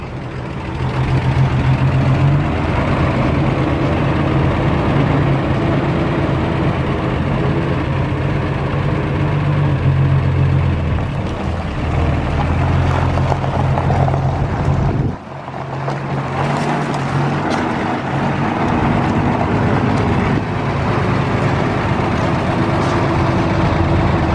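An old Dodge racing car transporter engine runs steadily at a loud, close idle with a deep low rumble, pausing briefly midway before carrying on.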